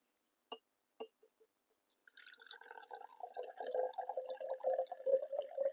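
Water goes into a container sitting on a kitchen scale: a few separate drips first, then a steady trickle of pouring that grows louder and fuller. It is quiet and close.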